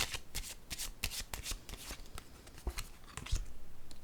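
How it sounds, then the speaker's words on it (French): Tarot-style reading cards are shuffled by hand, a close run of quick riffling flicks and slaps, then one card laid down on the table, with no voices. "Je vais déposer une carte ici."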